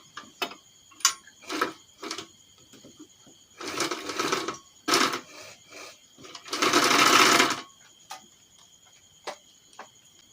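A sewing machine stitches thick fabric for shoulder pads in short stop-start bursts, rapid close clatter between pauses and ticking handwheel adjustments, with no one talking.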